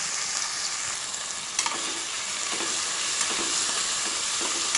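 Tomato and garlic sautéing in a pan for sambar rice, a steady, bright sizzle with a few soft stirring clatters, close and continuous with no talking.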